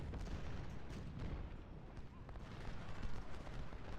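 A continuous rumble of distant artillery and musket fire from a Civil War battle in Ultimate General: Civil War, dense and muffled at low level with a few sharper reports, and someone talking faintly over it.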